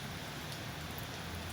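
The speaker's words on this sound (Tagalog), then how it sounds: "Walang katapusang ulan dito sa amin sa Dait, Camarines Norte." Heavy rain in Dait, Camarines Norte pours down as a dense, unbroken hiss with no pauses, loud and close, and nobody speaking.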